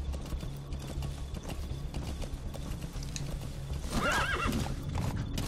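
Horse hooves clip-clopping steadily through a Metal Gear Solid 5: The Phantom Pain game scene, close and continuous, with a loud neigh and whinny breaking out near the end.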